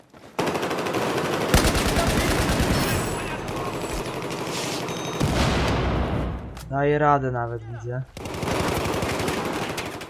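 M4 rifle fire in the video game Battlefield 4 rattles in loud rapid bursts that stop and restart, with a voice speaking briefly between the bursts.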